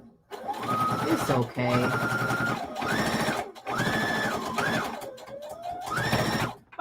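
Sewing machine stitching a seam on a whimsical turkey placemat, running in several bursts of a few seconds with short pauses between them, close up. A person speaks briefly over it.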